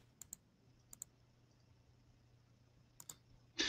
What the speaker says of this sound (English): I hear you clicking. What are you clicking over there?